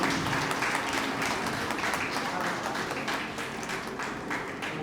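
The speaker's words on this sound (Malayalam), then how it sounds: "പ്ലീസ് എല്ലാവരും ഒന്ന് ഉഷാറായിട്ട് ഒന്ന് കൈയടിക്കുക." Audience applause at a Sree Narayana Guru Jayanthi ceremony held by an SNDP Yogam branch in Dombivli, steady and fairly soft, with a dense wash of clapping lasting the whole stretch and no clear voices on top.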